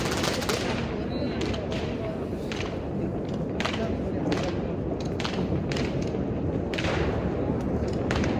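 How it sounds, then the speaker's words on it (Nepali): New Year firecrackers burst around houses in a Romanian neighbourhood, with repeated sharp bangs and thuds at varying distances over a constant background rumble, while voices talk nearby. "घर घर झ्याल झ्यालबाट बम फाल्छ"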